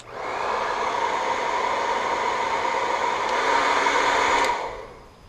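A hot air blower set to warm, used to strip window tint from a Nissan 350z, roars with a steady, close rushing airflow for about five seconds before cutting off and fading.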